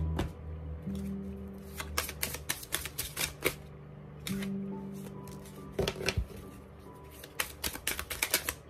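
Tarot cards shuffled and riffled by hand in a steady series of crisp, close slapping bursts, with quieter pauses in between and a low hum underneath.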